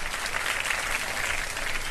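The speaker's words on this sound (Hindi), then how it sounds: "इनको भी बहुत सारी तालियां" A studio audience on a televised religious quiz show claps steadily and densely throughout, a continuous wash of hands with no break.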